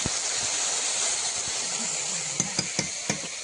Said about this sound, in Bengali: লোটে মাছটা প্রায় ভাজা হয়ে এসছে